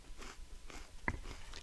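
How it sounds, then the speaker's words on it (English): A dry MRE cracker is bitten once, producing a single sharp, close crunch partway through, surrounded by faint room noise. "I can hear the crunch from over here. That's how dry those things were."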